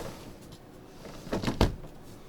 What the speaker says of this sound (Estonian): Uks käib kinni.